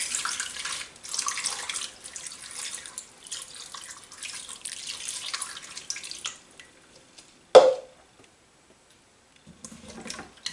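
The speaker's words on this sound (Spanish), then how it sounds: "Volcamos el agua." Water is poured into a pot of sweet potatoes with cinnamon sticks, cloves and sugar, a steady splashing pour for several seconds that stops abruptly, followed by a single sharp knock and then a brief faint trickle.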